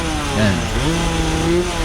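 A tuned Honda Nova motorcycle engine revs as it pulls away in first gear, a loud, close, buzzing two-stroke drone rising and falling in pitch across the short burst.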